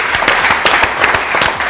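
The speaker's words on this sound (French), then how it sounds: "On va applaudir, c'est toi." Audience applause in a café show, a dense, steady burst of many hands clapping, loud and close, with no voices over it.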